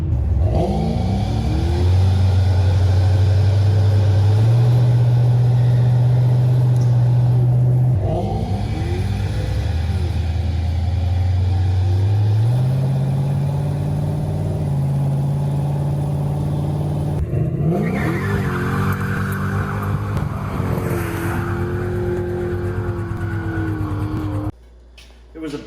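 Loud, aggressive engine of a hot-rodded Ford Model A revving hard during a burnout, with pitch rising and falling over repeated throttle blips, under occasional voices.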